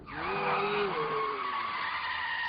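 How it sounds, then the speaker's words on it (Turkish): A cartoon car's tires screech loudly as it brakes hard and skids, the squeal holding for about two seconds before fading out. "Bir dokununca araba zart diye duruyor."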